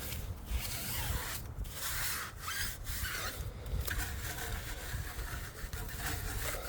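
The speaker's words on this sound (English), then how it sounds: "I'm going to scrub it in on the tires. Get a good, nice scrub in on there." Stiff brush scrubbing Chemical Guys Diablo wheel and tire cleaner into car tires, a steady rasping rub with repeated strokes, close and moderately loud, with no talking.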